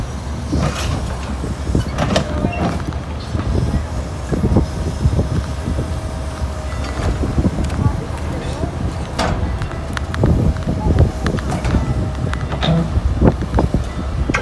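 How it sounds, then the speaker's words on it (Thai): A heavy excavator clanks and rumbles across metal railway tracks with repeated knocks and scrapes, while someone talks over the noise throughout. "แมคโครขับข้ามทางรถไฟเลยนะครับ"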